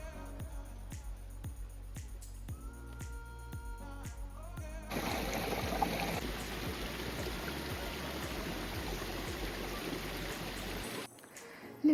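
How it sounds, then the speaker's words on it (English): Flowing water of a mountain waterfall on a high Himalayan trek route, a steady broadband rush that swells louder midway, preceded by faint rhythmic knocks, then cutting off near the end. "We filled our bottles there and just sat quietly, listening to the sound of flowing water."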